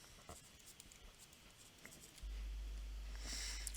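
Pen or marker scratching across paper or a board while a math solution is written out, soft intermittent strokes, quiet and close with no talking.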